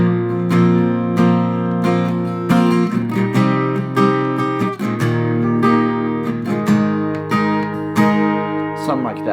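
Acoustic guitar strums the verse chords of a song in a steady rhythmic pattern, close and clear, with repeated chord attacks throughout and no voice.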